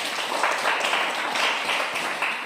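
Classroom applause from students, a soft, even wash of many hands clapping that holds steady for the whole stretch, moderately distant with no voices over it.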